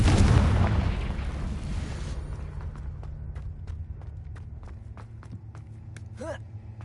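In Hogwarts Legacy, a Confringo blasting spell sets off a heavy, booming explosion that rumbles and fades, followed by a steady series of light footsteps and a short, faint voice-like sound near the end.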